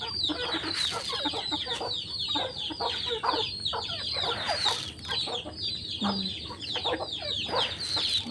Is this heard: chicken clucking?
yes